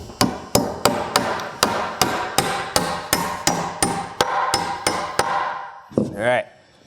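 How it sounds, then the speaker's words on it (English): Hammer blows drive a nail into a wooden shoulder stud during wall framing, about fifteen sharp, evenly spaced strikes ringing out close and loud, ending with a brief rattling scrape. "Put the second nail in."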